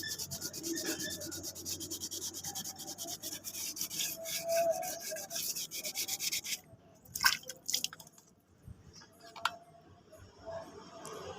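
Close, steady rubbing of sandpaper on a Honda Scoopy scooter body panel being prepared for repainting, a dry rasping scrub that breaks into a few scattered knocks and taps near the end.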